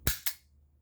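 Two sharp close cracks come from a BB gun styled like a Magnum revolver, about a fifth of a second apart, the first louder and each decaying quickly into quiet.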